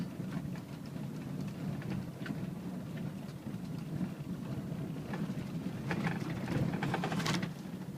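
A four-wheel-drive vehicle climbs a rural trail in Camden County, its engine a steady, moderately loud rumble with rattles and bumps from the rough ground throughout.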